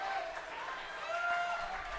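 A crowd at a baseball championship game between Santa Fe and Chipola cheers and applauds steadily, a broad, distant wash of clapping and voices running continuously with no single standout burst.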